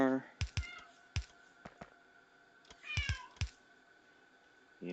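A hungry house cat meows several times in short, close calls, some in quick pairs, with soft keyboard clicks and someone talking quietly in between.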